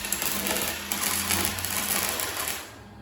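Metal is spot welded in short tack points, giving a dense, harsh crackling buzz that runs steadily for a few seconds and then cuts out, close and loud.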